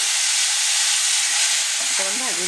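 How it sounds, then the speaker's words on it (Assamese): Sliced onion frying in hot oil with bay leaves and whole cumin sizzles steadily and loudly close up, with a brief voice breaking in near the end. "অকণমান ভাজি ল'ম।"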